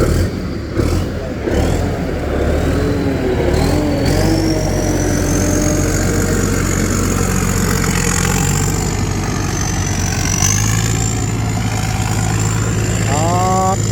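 A combine harvester with a large roof covering the whole machine runs its engine steadily, with a droning rumble and rising and falling whine in a rice field, while voices are heard over it.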